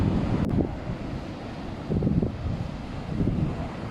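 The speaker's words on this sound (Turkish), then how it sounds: "Nasıl şahlanıyor bugün dalgalar." Ocean waves surge onto a windy beach, a steady roar with swells rising and falling, heavy wind buffeting the microphone, no speech.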